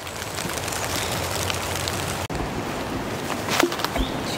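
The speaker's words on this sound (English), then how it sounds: "I have to put the camera away because it's starting to rain." Rain falls in spring woods as a dense, steady hiss of drops on leaves and ground, close and continuous, with a brief rustle near the end and no talk.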